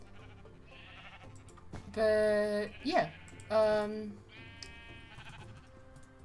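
Minecraft sheep bleat from a pen, two drawn-out wavering bleats with a squeaky blip between them, loud over a quiet backdrop while someone speaks briefly around them.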